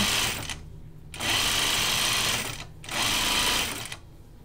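A sewing machine stitches a short seam on a tea house dress in three quick bursts of rapid mechanical whirring, separated by brief pauses, close and fairly loud.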